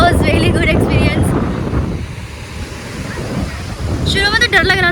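Wind buffets the microphone over the churning rush of waves at Madhavpur Beach in Gujarat, a loud, continuous roar, with a short burst of voices at the start and end.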